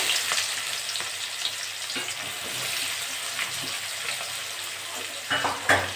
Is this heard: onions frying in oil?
yes